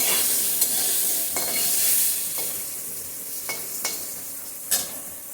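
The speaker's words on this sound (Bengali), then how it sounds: "কুমড়োটা একদম লাল করে আমি ভেজে নিলাম" Pumpkin pieces fry in oil with a steady close sizzle, broken by a few sharp spoon scrapes and clinks against the pan.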